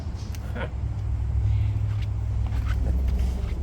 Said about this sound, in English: Trumpeted exhaust out the back, which gives it a very distinguished tone that I sure do like as well.